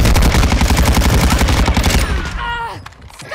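Automatic gunfire from the video game Warzone rattles in rapid, loud bursts for about two seconds, then cuts off, leaving quieter game ambience.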